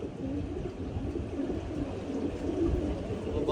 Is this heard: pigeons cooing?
yes